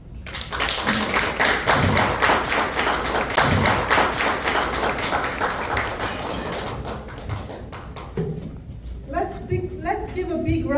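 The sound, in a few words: audience applause after a youth's speech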